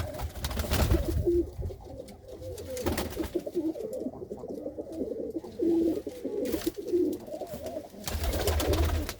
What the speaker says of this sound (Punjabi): ਇਹ ਕਬੂਤਰੀ ਹੈ ਜੀ